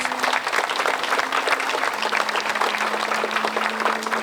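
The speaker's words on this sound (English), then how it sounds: "Round of applause for Reed Soria, please." Crowd applause at an outdoor Memorial Day ceremony in Fort Walton Beach, Florida, a sustained, dense patter of many hands clapping continuously, with a low steady hum underneath.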